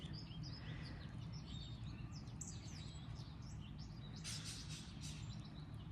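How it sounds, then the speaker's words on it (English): Several birds sing and chirp in a garden on a rainy April morning, faint high calls scattered over a steady low background hiss, with a brighter burst of song near the end. "You hear all of the birds singing to each other, playing, enjoying the rainy April weather."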